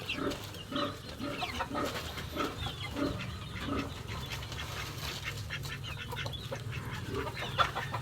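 Chickens clucking in a short, irregular series of calls over a low background hum, fairly close, with no talking.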